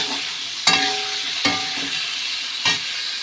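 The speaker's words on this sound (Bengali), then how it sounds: "এই 2 চামচ নুন এবং এই 1 চামচ হলুদ দিয়ে কিন্তু বেশ করে কিন্তু আমি এটাকে নাড়াচাড়া করব" Potatoes frying in a pan with salt and turmeric are stirred with a spoon, steady sizzle running throughout while three sharp scraping clinks of the spoon against the pan punctuate it, close and clear with no talking.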